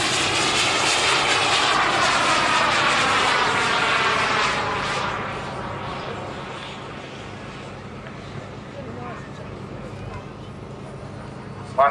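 A radio-controlled model jet flies at an airshow, its loud turbine whine sweeping past and fading as it moves away, with commentary heard over it.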